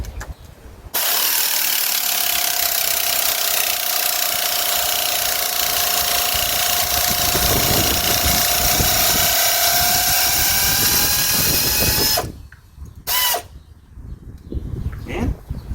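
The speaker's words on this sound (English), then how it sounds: "we're going to hit it with the air wrench, or air ratchet" Air ratchet spinning out exhaust manifold bolts on a 1974 Dodge D100 pickup: a loud, steady pneumatic whir with a sustained whine runs unbroken for about eleven seconds, then cuts off into quieter shop clatter.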